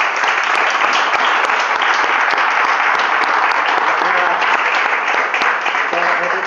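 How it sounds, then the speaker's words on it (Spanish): A lecture audience gives Doctor Pertierra a loud round of applause. Dense, continuous clapping fills the whole stretch at an even, sustained level. "un fuerte aplauso para el doctor Pertierra"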